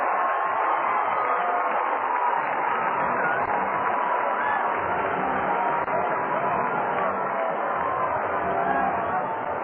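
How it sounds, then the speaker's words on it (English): Crowd at a minor-league baseball game in Cedar Rapids roars for a triple, a sustained, broad cheer heard through a thin, radio-quality broadcast while an announcer talks over it. "Listen to the crowd."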